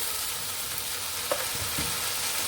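A paste of ground mustard, cumin and garlic fries in a pan with a steady, close sizzle and one or two soft stirring scrapes, no voices.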